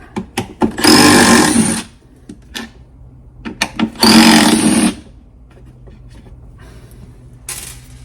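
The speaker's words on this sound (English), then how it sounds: "I'll take these 2 screws off to take this black housing off." Two loud, close whirring bursts of a power screwdriver remove screws from the black plastic housing of a STIHL BR450 leaf blower, with clicks, taps and rattling handling of parts between them and a quieter stretch at the end.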